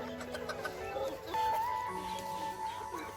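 Chickens cluck softly in a yard at watering time, scattered short clucks and chirps at low level with faint background voices.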